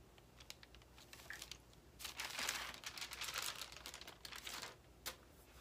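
Parchment baking paper is laid down and crinkled by hand during holiday craft preparation, giving faint, close crackling rustles that swell in the middle and end with a sharp crinkle.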